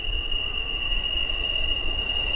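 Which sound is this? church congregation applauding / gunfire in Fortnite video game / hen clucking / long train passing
long train passing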